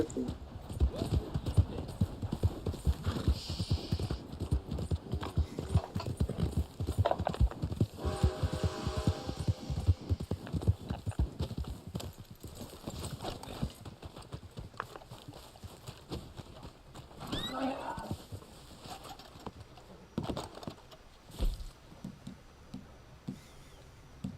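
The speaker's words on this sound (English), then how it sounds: "Oh, this is the Black Arabian horse." Rhythmic hoofbeats of a Black Arabian horse in Red Dead Online clip-clop steadily for a long stretch, fairly quiet, with a brief whinny-like tone partway through.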